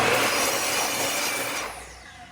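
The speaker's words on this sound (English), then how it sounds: "Now I can take this over to the miter and cut these two sides off" A miter saw fitted with an Evolution blade cuts through walnut and ash for a headphone stand base, a loud steady whine of blade on wood that eases off near the end as the cut finishes.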